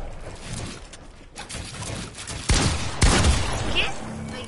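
Rapid gunfire and explosive bursts from a PS4 shooter game, a dense, harsh barrage that swells louder in the second half.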